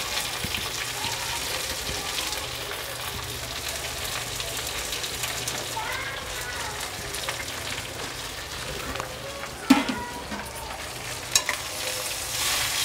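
Fenugreek seeds, mustard seeds and gongura leaves fry in a pan for gongura chutney, a continuous crackling sizzle under occasional stirring, with a couple of sharper knocks near the end.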